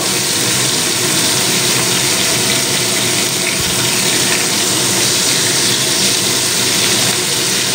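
Prawns frying in a pan, lightly fried for a prawn malai curry, give a loud, steady broadband sizzling hiss that holds unbroken from start to finish with no voices.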